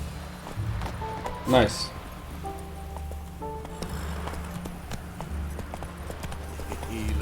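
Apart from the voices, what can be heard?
Roach the horse's hooves, from video game The Witcher 3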